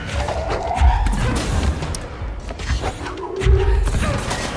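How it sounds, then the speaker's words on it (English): Enemies blow up in the video game Control with heavy, booming thuds. Two big bursts rise above a dense rumbling game mix. "These fellas here explode, so it's always nice to see them with some really explosions"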